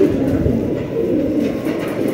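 Rampuri pigeons cooing steadily in a low, continuous murmur, close and fairly loud, with no talking over them.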